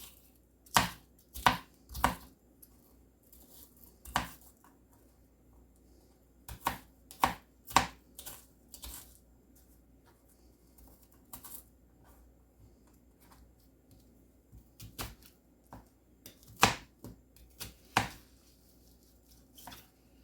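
A knife chops an onion on a cutting board in sharp, close knocks, some in quick bursts of two or three and others spaced apart, with quiet pauses between.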